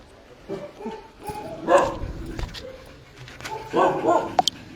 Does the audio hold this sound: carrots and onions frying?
no